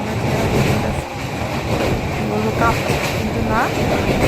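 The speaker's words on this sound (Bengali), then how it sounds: "ব্রিজের ওপর দিয়ে আমার ট্রেনটা যাচ্ছে" A train crosses a bridge over a river, heard from inside a carriage as a continuous low rumble and rattle with a brief squeal, while a person talks over it.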